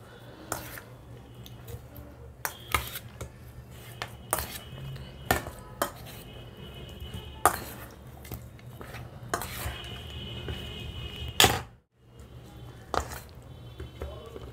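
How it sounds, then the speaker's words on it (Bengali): Chicken marinated with salt, lime juice and ground pepper is mixed in a dish: a string of sharp clinks and taps of utensil against the bowl with soft squishy stirring between, close and fairly quiet. "চিকেনটা লবণ, পাতিলেবুর রস, গোলমরিচের গুঁড়ো দিয়ে মাখিয়ে নিলাম।"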